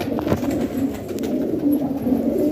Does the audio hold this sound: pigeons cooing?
yes